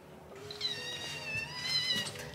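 A small kitten gives a couple of high, thin meows close by, quiet and alone.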